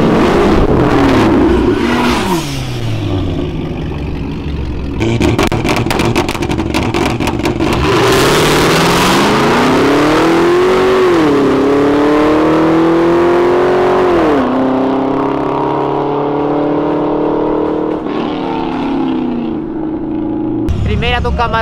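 A Camaro V8 and a VW Up TSI with 340 hp drag race. Loud engines rev and climb through rising gear pulls, with shifts between them and a long sustained acceleration that fades near the end.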